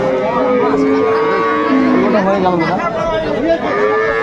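Improved-breed dairy cows and calves at the Aftabganj cattle market in Dinajpur give loud, drawn-out moos, one after another, close by, over crowd chatter and people talking.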